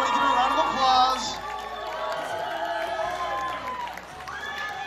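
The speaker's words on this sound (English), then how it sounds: "Everybody give a round of applause." Concert crowd at a tour stop in a performer's hometown cheers and applauds loudly, with whoops and shouts over a dense roar that swells early and stays steady, mixed with scattered high voices.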